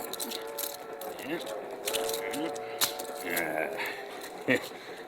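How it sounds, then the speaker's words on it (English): A set of keys jangles and clinks in several light metallic bursts, near and fairly quiet, mixed with faint movement and background voices. "Let me get my keys."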